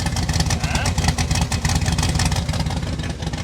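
A clapped-out 1955 Chevy Gasser engine idles with a choppy, loud exhaust rumble recorded up close, steady and pulsing throughout.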